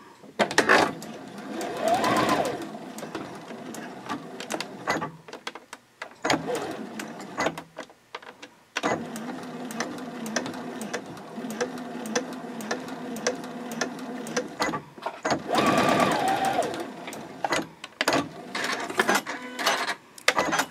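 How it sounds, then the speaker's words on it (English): A sewing machine stitching an elastic closure onto a fabric composition notebook cover, running in steady rapid bursts with short pauses between runs and back-stitching passes, close and fairly loud, with no talk. "First, I'm sewing the elastic closure in place."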